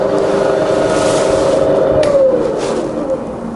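A Bridgeport milling machine spindle runs with a steady mechanical hum, the pitch sliding downward as it slows to 60 RPM, close and continuous.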